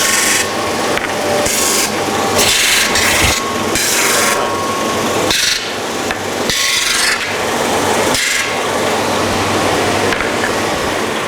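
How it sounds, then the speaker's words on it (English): A belt sander grinds the sharp edge off a piece of wood in a joinery shop, a steady loud abrasive rasp with repeated surges as the wood is pressed against and lifted from the belt. "we'll just do a quick sand on the belt sander to take the edge off"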